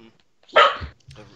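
A dog gives a single short, close bark, with voices talking just before and after it.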